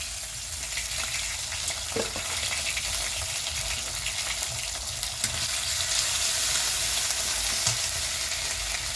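Ginger paste sizzles and fries with potatoes in a pan, a steady broadband crackle with occasional stirring clicks, close and moderately loud with no talking.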